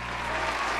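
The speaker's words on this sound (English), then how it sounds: "we've obviously got some Goblin fans in the crowd, because they are going wild up there" A crowd cheers and applauds continuously, a dense roar of clapping with no pauses, heard briefly.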